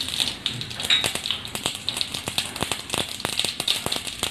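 Mustard seeds crackle and pop in about four spoons of hot oil over a low flame, a dense run of sharp close snaps and sizzles with no talking.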